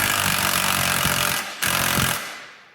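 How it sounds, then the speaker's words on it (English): An impact driver hammers loose a shock absorber bolt on a Jeep Wrangler JK, giving a loud, continuous rattling burst that breaks off briefly near the middle and then resumes before trailing away. "you can take your impact driver and get that off of there"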